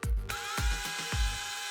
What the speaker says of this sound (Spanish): Ahora puse esto al final del taladro y puedo girar el imán así.